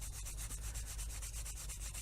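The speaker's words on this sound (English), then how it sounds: "But now I'll just lightly rub that back and forth" Raw leather edge rubbed lightly back and forth by hand, a quick regular series of soft dry swishing strokes, close and quiet, about eight passes in two seconds with no voices.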